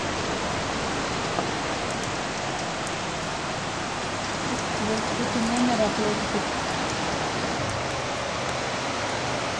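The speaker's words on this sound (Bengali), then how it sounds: "এই যে এখন পুরোপুরি বৃষ্টি চলে আসছে" Heavy rain falls outside a house in Sydney, Australia, as a dense, even roar of pattering drops. It continues unbroken at a fairly loud level, with faint voices partly buried beneath it.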